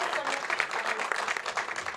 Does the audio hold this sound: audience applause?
yes